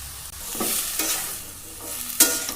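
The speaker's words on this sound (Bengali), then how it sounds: "বন্ধুরা আমরা ভালো করে মিক্স করে নেব হলুদ লবণগুলো।" Potatoes being stirred in a pan with turmeric and salt, a few scraping spoon strokes over a soft background sizzle, close and moderately loud with no talking.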